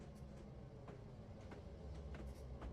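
A train in a train simulator game rumbles steadily along the Feather River Canyon with faint clicking accents, a continuous low rolling drone throughout.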